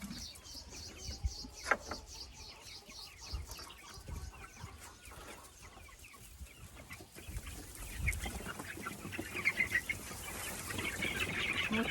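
Young chicks chirp and peep busily near the mic, with scattered clucks and brief rustles, a steady high twittering throughout.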